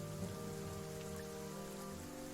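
Heavy pouring rain in the video game The Banner Saga 2, a dense, steady wash of drops on the ground with a low droning bed beneath, continuous and loud for the whole stretch.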